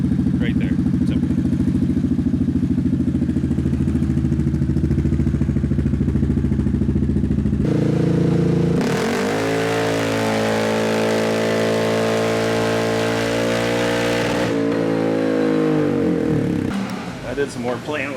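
Yamaha Grizzly ATV engine with dual exhaust and lid, running steadily and loud, then changing pitch partway through and holding a strong, buzzy drone until near the end, close to the machine.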